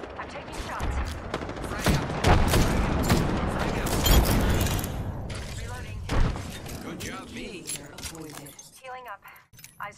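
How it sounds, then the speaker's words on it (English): Rapid bursts of gunfire from the video game Apex Legends crackle loudly through the clip, dense volleys with metallic clatter, then sparser shots toward the end, with in-game voices speaking throughout. "They spotted me. I'm taking shots."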